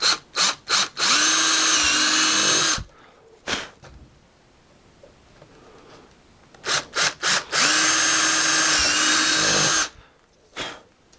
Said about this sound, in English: I'm going to take a 3/16 bit and drill both of these through